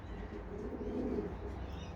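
An old, sick racing pigeon kept indoors coos softly, a low murmuring coo heard faint and close against a quiet room background.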